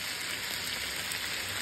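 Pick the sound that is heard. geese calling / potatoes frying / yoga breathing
potatoes frying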